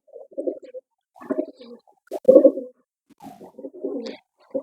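Several soft, throaty pigeon coos in short bursts, fairly close, with brief pauses between them and no talking.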